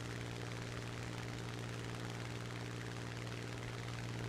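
Propeller drone of a Mustang fighter plane flying in a flight simulator battle game, a steady loud engine hum that holds unbroken and alone for the whole stretch.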